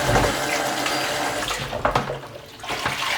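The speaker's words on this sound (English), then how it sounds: "this is how I wash everything. Okay, this time, let me just pour the water." Water pours in a strong, continuous splashing stream over peppers and onions being washed, loud and close, thinning into lighter trickles and splashes toward the end.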